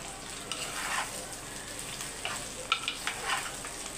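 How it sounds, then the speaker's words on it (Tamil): Ridge gourd and onion sauté in a hot pan, giving a soft, steady sizzle with a few brief scraping stirs and crackling bursts. The sound is close but fairly quiet, with no voices. "பீக்கங்காய் வதக்க வதக்க வதக்க சுருங்கிடும்."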